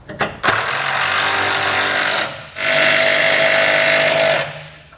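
Continuous broadband whirring from a power tool or impact driver running a 19mm socket onto TorkLift tie-down bolts on a 2015 Ram 3500, in two long loud bursts of about two seconds each separated by a brief pause, with no talking.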